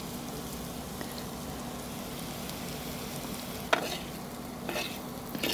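Green chillies sauté in hot oil for a fish curry (koduva meen kulambu), a soft continuous sizzle with a few sharper stirring scrapes and clinks near the end.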